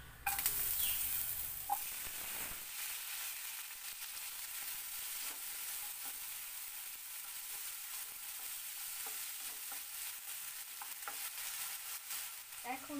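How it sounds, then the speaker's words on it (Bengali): Sweet potato pieces fry in hot oil in a pan for a moringa flower curry, a loud burst as they go in settling into a steady, even sizzle with occasional stirring clinks, no voices. "রাঙা আলু টুকরোগুলোকে এবার এটা এই তেলের মধ্যে দিয়ে"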